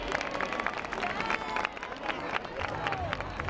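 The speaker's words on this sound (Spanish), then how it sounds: "fuerte aplauso" An audience applauds loudly at an outdoor Christmas lights show in Torrejón de Ardoz, with steady clapping and crowd noise that carry on throughout.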